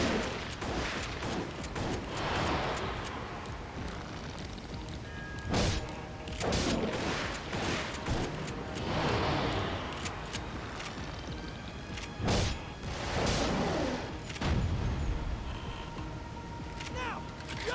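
Gunfire in the PS3 game Resident Evil: The Darkside Chronicles comes as repeated loud bursts and single shots scattered through a long stretch of steady combat noise, with voices talking intermittently under the shooting.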